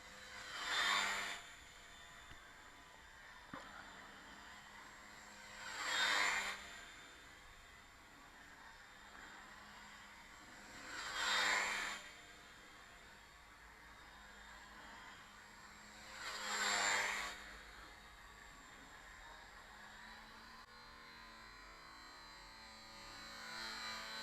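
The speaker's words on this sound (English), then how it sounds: "I've really opened the throttle up. That's full throttle now." A model Nieuport 17 plane flown round the pole at full throttle, its engine drone swelling and fading four times at an even pace as it circles past, with steady background noise between passes.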